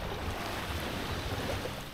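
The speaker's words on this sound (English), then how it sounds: "listen to the ocean" Ocean surf on a beach, a broad steady wash of waves mixed with wind rumble on the microphone, continuous and fairly soft with no talking.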